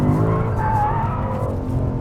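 A 2021 Lexus RC F Track Edition slides through a corner with a loud engine drone and a sustained tire squeal, heard from close by without pause.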